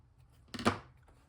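Scissors snip once through overlapping fabric seam allowances on a scrap-buster sewing project, a single short close cut in a quiet room.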